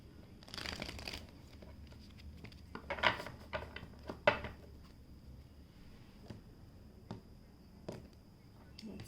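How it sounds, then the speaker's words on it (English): A deck of tarot cards is shuffled by hand close up: quiet, irregular rustles, slaps and brief riffling bursts scattered over several seconds against a low room hum. "Let me just shuffle it a bit."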